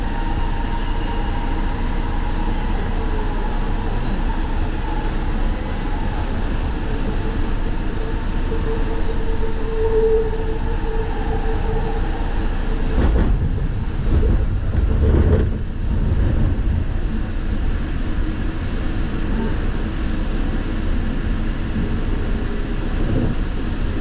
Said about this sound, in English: This train is going to JFK Airport